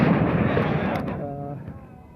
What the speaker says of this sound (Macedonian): на секаде пука димни бомби